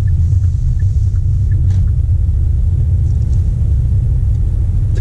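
A Hyundai Elantra pulls away at an easy pace, its engine a steady low rumble heard from inside the car with no talking.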